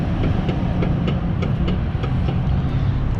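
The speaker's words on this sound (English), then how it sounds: "It's hard to hear anything with all this traffic." Road traffic with passing trucks droning close by, a dense continuous low rumble with faint rhythmic ticking on top, no voices.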